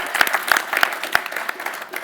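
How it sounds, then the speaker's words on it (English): Scattered, uneven hand claps from a small audience at a youth democracy event, close and moderately loud, a few sharp individual claps standing out over a thin patter. "So give a massive round of applause as"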